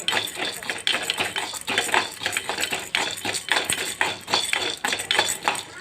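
Grated coconut, a quarter of a coconut, is stirred while roasting in a pan for beetroot chutney, with a spoon scraping and clinking against the metal in quick, irregular strokes that continue throughout.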